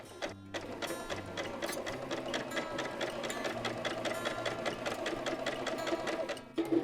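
A sewing machine stitches headband fabric in a steady rapid mechanical whirr with a fast regular needle beat, running continuously and fairly quiet, stopping briefly near the end.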